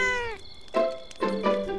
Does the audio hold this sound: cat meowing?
yes